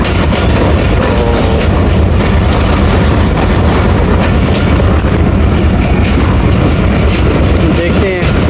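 A moving passenger shuttle train running between Lala Musa and Sargodha junctions in Pakistan, with a loud, steady rumble of the carriage and rhythmic clickety-clack of wheels over rail joints continuing throughout, some faint voices underneath.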